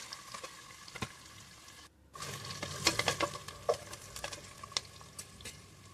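Onions and green chillies fry in a pan for bagara rice, a steady soft sizzle broken by scraping stirs and sharp spatula taps, briefly dropping out, then resuming busier and closer, with no talking.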